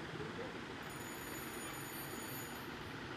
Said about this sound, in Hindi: फोन आ रहा है भाई